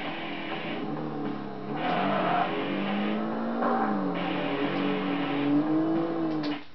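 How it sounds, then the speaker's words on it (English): A Mitsubishi Starion fitted with an F6 type engine races in Tokyo Extreme Racer 3, its game engine droning steadily and rising in pitch as it accelerates, loud and continuous with no talk over it. "I have an F6 type engine in this Starion, so it goes really, really quick."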